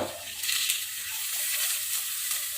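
Onions with garlic and ginger fry in a pan, a continuous broad hiss with faint stirring movement underneath, close and fairly loud, with no voices.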